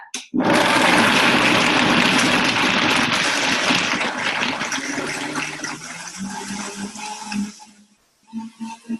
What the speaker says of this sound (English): put the lid on your Vitamix or your blender and start it on about a medium range, and then you're going to turn it up